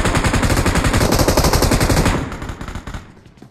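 Loud, continuous bursts of automatic gunfire in PUBG Mobile rattle close up for about two seconds, then thin out into scattered, fading shots.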